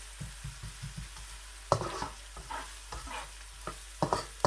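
Onions fry gently in olive oil over low heat, giving a soft, steady sizzle broken by a run of small rhythmic taps and then louder scraping stirs from a spoon in the pan.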